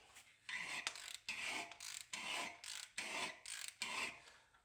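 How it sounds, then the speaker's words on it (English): A ridge reamer's cutting blade scrapes around the cylinder wall of a 292 Y-block engine, making repeated rhythmic rasping strokes with short pauses, close and fairly quiet, no voices. "that's what expands this so that the cutting blade hits the cylinder wall"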